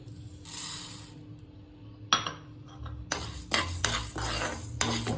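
Urad dal and moong dal frying together in a pan, heard as a light sizzle under close, irregular scrapes and metallic clinks of a spoon stirring against the pan, with no voices.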